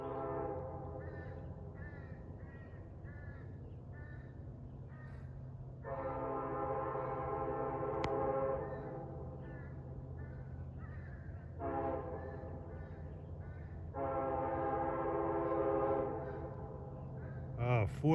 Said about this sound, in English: the sweet sound of a K5 LLA horn, I believe